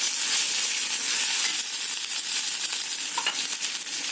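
Tomato paste fries in a hot pan for tomato rice with lapsi (broken wheat), giving a steady, fairly loud broadband sizzle and hiss that holds evenly throughout, with no talking.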